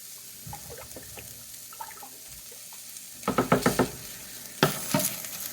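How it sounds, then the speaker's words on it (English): Hamburger meat with garlic and Italian seasoning sizzles softly in a pan, then two bursts of close scraping and clattering come as a utensil stirs it, with no voices. "And some Italian seasoning, probably about a tablespoon's worth. Let me give that a stir."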